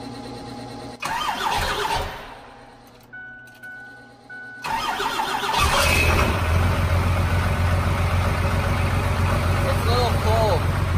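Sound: vehicle engine starting and idling

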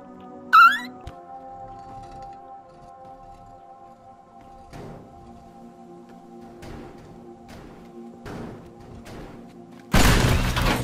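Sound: gas tank explosion in video game Teardown

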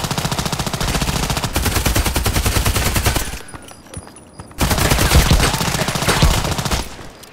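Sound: gunfire in video game Contract Wars

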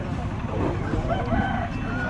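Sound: chicken at a tribal market

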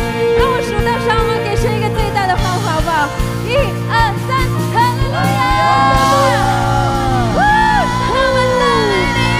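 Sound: congregation cheering loudly

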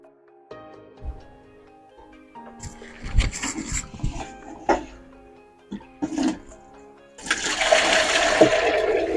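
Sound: pouring liquid bio-fertilizer from a watering can

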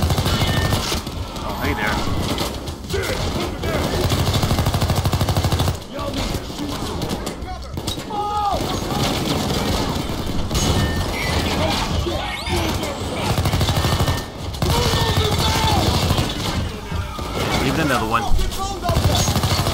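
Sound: gunfire from a gun in the video game PayDay 2

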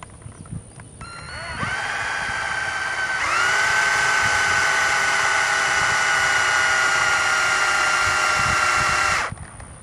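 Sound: cordless drill twisting wire straight

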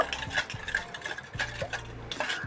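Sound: stirring sugar and oil together in a bowl

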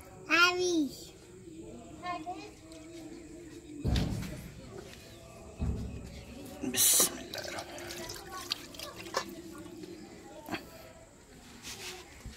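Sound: water poured to rinse out leftover batter

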